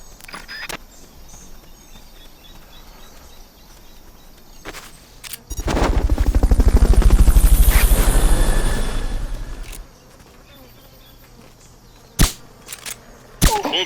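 Fulton recovery helicopter sequence in Metal Gear Solid Peace Walker, a loud rising and falling whoosh with rapid rotor-like pulsing that swells for several seconds and then fades, surrounded by sharp game clicks and thuds.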